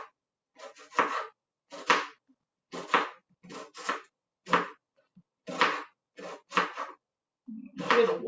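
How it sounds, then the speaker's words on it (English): Knife chopping an onion on a cutting board, heard as a series of sharp, irregular bursts of chops roughly every half second to second, close and fairly loud, with short quiet gaps between them. "So you're going to chop up the onion."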